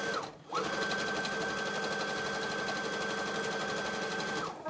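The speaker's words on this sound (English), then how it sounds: "I'm going to sew the salvage edge of my fabric together" A sewing machine stitching together the selvage edge of fabric, starting with a brief burst, pausing, then running in one steady, fast, close whirring stretch.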